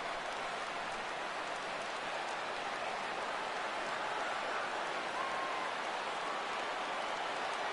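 Steady, dense crowd roar from a baseball video game on PS4, a broad even wash of stadium noise holding at one level throughout with no distinct voices standing out.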